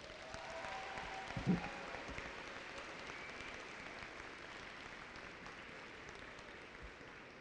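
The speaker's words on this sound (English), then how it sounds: "Graduates, please give your parents and guardians a round of applause" Audience applause fills a graduation ceremony for the Air Academy class of 2018, a steady, dense wash of many hands clapping throughout, with one brief louder knock near the start.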